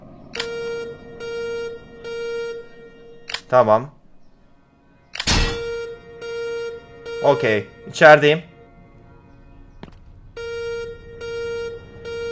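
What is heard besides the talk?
alarm sounding in video game Smiling-X Corp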